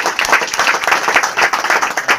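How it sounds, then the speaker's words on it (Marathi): A crowd applauds loudly at a political gathering, with dense, continuous clapping that fills the whole stretch without pause. "अनुभवासाठी एक वेळ सर्वांनी जोरदार टाळ्या वाजवून स्वागत करावं"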